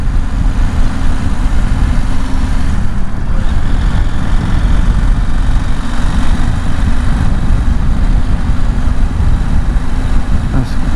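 A 2021 KTM 890 Adventure motorcycle engine drones steadily at close range, a continuous loud low rumble with constant road and wind noise, running without a break.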